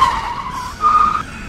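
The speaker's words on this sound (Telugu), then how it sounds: "అప్పుడే తన అరుపుని విని అమిత్ కార్ బ్రేక్ ని వేస్తాడు." A car brakes hard with its tyres skidding: two loud, close screeching squeals in quick succession, the second brief and sharper, with no voices present.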